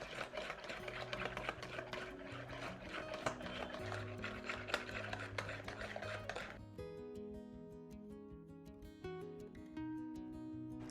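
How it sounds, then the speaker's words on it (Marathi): An electric mixer whirs steadily as it blends yogurt, oil and sugar into tea-time cake batter, then cuts off after about six seconds while soft background music continues. "हे आता आपल्याला चांगलं मिक्सरच्या साह्याने मिक्स करून घ्यायचं आहे"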